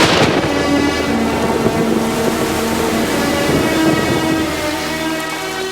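Heavy rain pours down steadily with thunder rumbling, a loud, unbroken downpour in a Tamil TV serial scene, with no voices.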